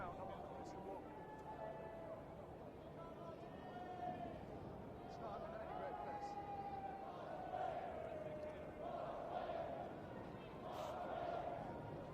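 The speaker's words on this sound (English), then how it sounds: "the Harlequins crowd continue to make themselves heard" A Harlequins rugby crowd at a Premiership stadium keeps up a sustained, distant roar with rising chant-like tones, heard under a commentator talking throughout.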